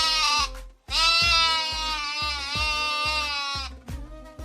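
Sheep bleat loudly and close, one long wavering call followed by a second, nasal and harmonic-rich, with no talk.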